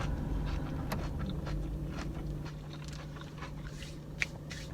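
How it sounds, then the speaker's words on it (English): Hash browns being bitten and chewed with faint crunching and soft mouth sounds close by, quiet against an air conditioner's steady hum, with one sharper crackle near the end. "You hear the crunch?"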